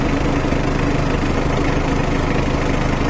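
Engine running during an AC refrigerant recharge on a MOTUBA Kuda, a steady loud idle with even low rumble and broadband noise, continuous throughout with no speech.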